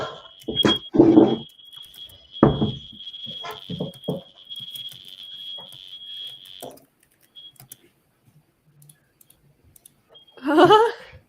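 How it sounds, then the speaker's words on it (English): A fire alarm sounds a steady, piercing high tone for about seven seconds, mixed with intermittent clicks and knocks, then cuts off, leaving near-silence before a brief loud burst of noise at the end. "Yeah. Fire alarm."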